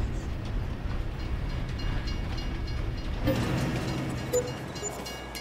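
A train rumbling past in Farming Simulator 22, a continuous low mechanical roar with faint rattling and clanking of wagons, steady throughout and heard alone.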